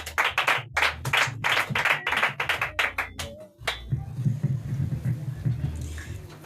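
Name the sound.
congregation clapping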